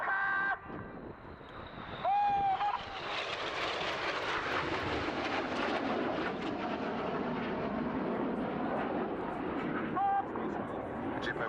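Four RAF Red Arrows jets in a 1965 airshow display run in low at about 100 feet on an opposing pass, a loud broad roar swelling and sustained as they close, with a commentator talking over it.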